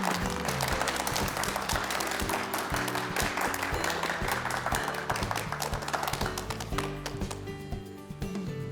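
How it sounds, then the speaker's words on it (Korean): An audience claps to welcome a cardiology professor onto a health talk show stage, a busy wash of hand claps over loud rhythmic background music, fairly quiet overall. "박수로 청해주세요"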